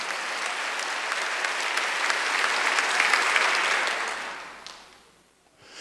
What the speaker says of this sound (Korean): 박수하세요